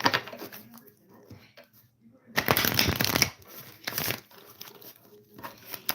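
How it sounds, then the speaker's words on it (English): Tarot-style St. Michael oracle cards are shuffled by hand at close range, producing papery riffling and crinkling that swells into a loud burst in the middle, with faint background sounds around it. "We'll go ahead and shuffle the St. Michael cards."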